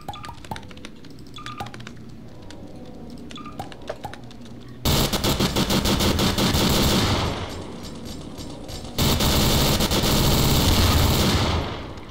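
Rapid NPC gunfire in Garry's Mod, bursts of shots crackling hard and loud, with quieter scattered pops at first and then two sustained dense volleys filling the second half.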